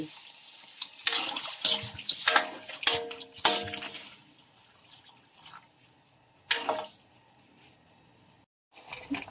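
Water splashes and pours into a pot of red curry with chicken and pork in several short bursts, with quieter dripping and trickling in between.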